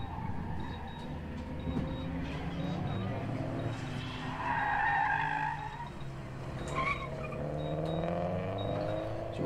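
A rear-wheel-drive car in a motor club gymkhana test works around cones, its engine droning steadily with a brief tire squeal midway, heard at a distance under a commentator's voice.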